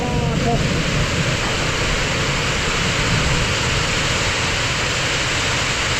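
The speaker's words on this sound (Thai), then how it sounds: "ฟังเสียงฝนนี่กับ" Heavy rain pours steadily in a rural setting, a loud, dense, unbroken hiss that fills the whole stretch with no pauses.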